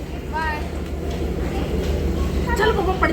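Steady low rumble of a train on the tracks as it comes to a stop, with a hum underneath, while people chat over it nearby.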